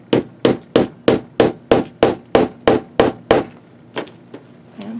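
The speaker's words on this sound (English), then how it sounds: "you're going to hit this part with a hammer" A hammer drives a metal eyelet into a canvas journal cover, about a dozen sharp, evenly spaced strikes in quick succession, then a few lighter taps, loud and close with no talking.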